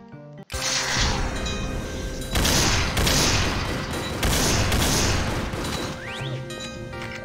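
Golden guns blasting away in the Zandronum Z-Horde game, heard as loud, dense bursts of gunfire that run almost without pause, with a brief gap near the start and a few heavier surges of shots and impacts.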